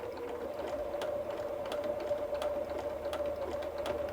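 Bernina sewing machine running with its needle bar stitching, a faint steady motor hum with a quick regular clicking of stitches, heard alone.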